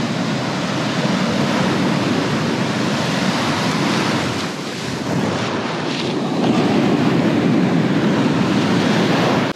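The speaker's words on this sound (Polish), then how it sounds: "ale są duże fale" Large sea waves break on a beach in a continuous, loud roaring wash of surf, with a brief lull in the middle before the crash builds again, heard alone with wind rumble.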